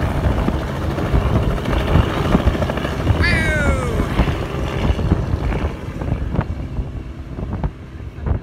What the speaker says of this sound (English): Hopping on a ferry from Paya